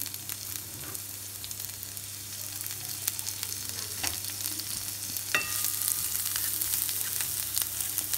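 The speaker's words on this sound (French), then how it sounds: "Et après, je vais rajouter mon kebab." Kebab meat fries with shallots in olive oil, giving a steady close sizzle with occasional stirring clicks and scrapes and a low hum beneath it.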